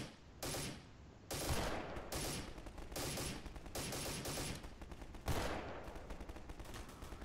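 Bursts of gunfire from the video game Garry's Mod, several loud rapid volleys separated by short pauses, dense and continuous over several seconds with no speech.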